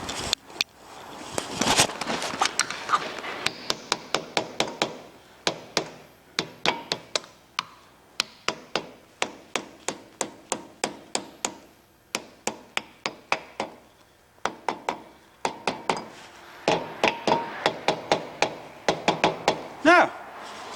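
A new wheel bearing cap is hammered into place on a car's rear wheel: a long series of sharp metallic taps from nearby, coming in quick irregular bursts with short pauses between them.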